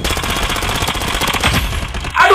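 Sustained P90 submachine gun fire in the video game Blood Strike, a loud, continuous rapid burst of shots that stops briefly near the end before another close, loud sound.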